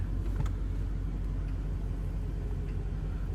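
Ford Fox Body Mustang creeping along slowly, a steady low engine rumble idling close by with faint occasional clicks and creaks, no talking.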